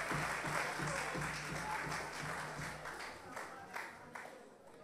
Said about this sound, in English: Please give him a rousing applause as you have all others here this evening.